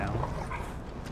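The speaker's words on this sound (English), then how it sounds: "I can pet the dog now." Dog in the Final Fantasy XVI video game, soft yips and whimpers mixed under speech, fairly quiet and brief.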